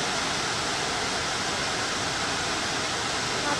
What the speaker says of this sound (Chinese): 行緊埋瀑布啦！